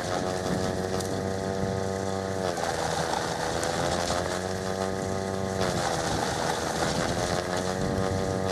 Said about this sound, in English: So I'm about ready to get started snow blowing.